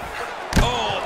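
A single heavy elbow strike lands with a sharp thud in EA Sports UFC 4, a short loud impact in the middle of an ongoing match with commentary and crowd noise around it.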